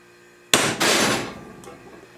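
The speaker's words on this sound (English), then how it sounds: "you have to beat it with a hammer and this thing." Two sharp metallic strikes of a hammer on a center punch set against a steel knife blank, close and loud, the second ringing longer and fading into a short tail.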